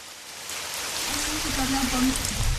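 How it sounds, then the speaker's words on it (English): Rain soaks a farming community in the Nanumba North Municipality of the Northern Region, a steady broadband hiss of falling drops that grows slightly louder, with a faint low hum beneath it. "a farming community in the Nanumba North Municipality of the Northern Region, is soaked in rain"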